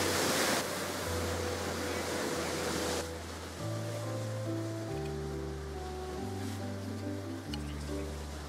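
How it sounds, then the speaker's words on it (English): Ocean waves surging below cliffs in San Diego, a soft broad wash heard alone at first, then continuing faintly beneath music. "So pretty, we're just sitting on these cliffs, watching the ocean."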